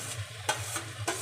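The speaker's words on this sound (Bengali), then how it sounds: "তো এবার আমি আলুগুলো দিয়ে দেবো" Potatoes being stirred into frying mutton keema, two quick scraping strokes over a close, steady sizzle, with no talk.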